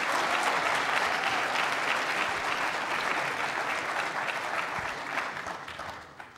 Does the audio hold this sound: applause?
yes